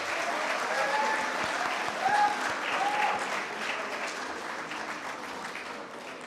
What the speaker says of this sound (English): can we have a big round of applause for all the participating colleges?